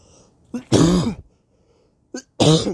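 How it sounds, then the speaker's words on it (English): Two short bursts of coughing close up, each a sharp throaty hack separated by a brief silence. "Bear in mind the coughing and stuff like that."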